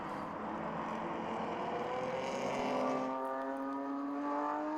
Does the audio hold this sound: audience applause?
no